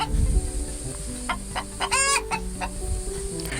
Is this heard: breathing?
no